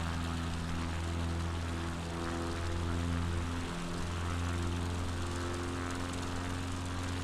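A propeller aircraft engine in MS Flight Simulator drones in a steady, loud, continuous hum with a strong low tone and no talking.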